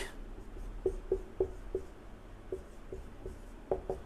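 Words being written on a board: a series of short, crisp strokes and taps in an uneven rhythm, moderately close over a steady low room hum, with no talking.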